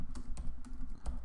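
Quick bursts of typing on a computer keyboard, a few sharp keystrokes at an uneven rhythm, close and clear, with no voice.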